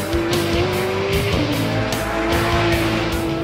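A Porsche 911 GT3 RS sliding on the Nardo test track, its engine holding a loud sustained note with a pitch dip midway as the tires squeal through the slide, close and continuous.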